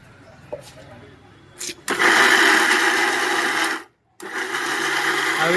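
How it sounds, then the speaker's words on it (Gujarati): A mixer grinder churns Kathiyawadi chutney for ganthiya, starting with brief bursts before running at a loud steady whine, then cutting out for a moment and restarting. "આવી રીતે મિક્સરને થોડુંક ઊભું રાખવાનું, પછી આપવાનું"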